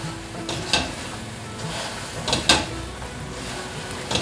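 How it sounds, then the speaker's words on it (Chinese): Sweet potato doughnuts stirred and tossed continuously in a pan of sticky cooked sugar syrup for Malaysian kuih keria, a soft steady sizzle with occasional scraping clacks of the spatula against the pan. "把甜甜圈放下来之后，就像这样子不停的拌炒，让每一颗甜甜圈都沾上刚刚炒的糖。"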